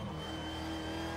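A V8 Supercar engine in the racing game Assetto Corsa revs hard and steady, a loud continuous mechanical roar with no pauses.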